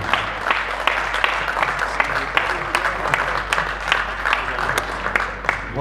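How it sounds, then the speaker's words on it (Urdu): An audience at a Portsmouth mushaira poetry gathering applauds steadily to welcome the chair, dense continuous clapping in a hall with a few sharper claps standing out. "تالیوں میں استقبال کیجیے گا"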